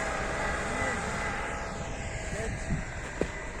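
A tractor engine labours through deep snow, a steady strained drone that holds throughout, with people talking over it.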